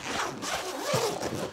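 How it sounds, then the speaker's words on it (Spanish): Zipper on a padded Neewer tripod carry bag being drawn open or shut in one continuous rasping pull, close and fairly loud, with no voices. "Una cremallera de bastante buena calidad."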